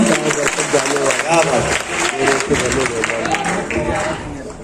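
Audience applause at a mushaira poetry gathering in Bhiwandi, a steady broadband clatter of many hands running under a voice speaking throughout.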